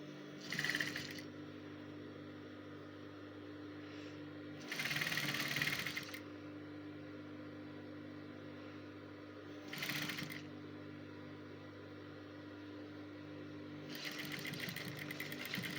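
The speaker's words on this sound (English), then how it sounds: "I'm just going to sew all the way to the front" Home sewing machine stitching a blouse seam in short bursts, four separate runs of a second or two each with quiet gaps between them, close and fairly soft against a low background hum.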